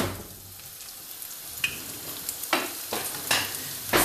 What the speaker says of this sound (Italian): Intanto l'aglio sta soffriggendo. Ok, ora possiamo aggiungere lo scalogno